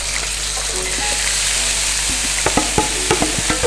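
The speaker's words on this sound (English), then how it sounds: "Now we need to just cook this garlic and ginger, quick stir fry, for aroma, no colour." Garlic and ginger stir-frying in a wok, a loud steady sizzle filling the space close up, with sharp clinks and scrapes of the utensil becoming frequent toward the end.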